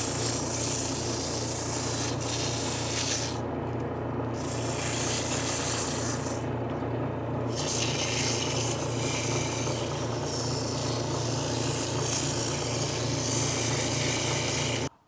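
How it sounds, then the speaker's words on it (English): Continuous hand sanding of a turned white oak cigar ashtray, a steady close rubbing scrape with a couple of short pauses, no voices. "now that I've sanded this to 400 grit"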